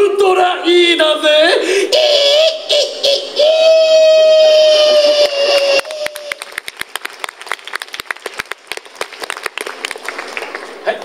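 Scattered applause from a show audience at Universal Studios Japan, many hands clapping in a loose, uneven patter after a loud voice and held tone fade out.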